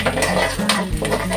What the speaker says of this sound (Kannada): ಈರುಳ್ಳಿ ಮತ್ತೆ ಬೆಳ್ಳುಳ್ಳಿ ಈ ರೀತಿ ಫ್ರೈ ಆಗ್ಬೇಕು.